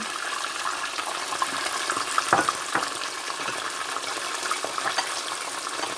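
Palm oil mixed with olive oil fries in a pan with a steady, moderate sizzle, a few louder crackles popping out briefly amid the continuous hiss.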